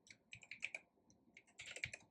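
Fast bursts of typing on a computer keyboard as assembly code is written, close and crisp, two clusters of rapid key clicks with a brief pause between, no talking.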